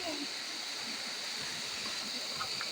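A waterfall and flowing stream at a barangay in Libon, Albay, rushing in a steady broadband roar close by, with a brief voice near the start.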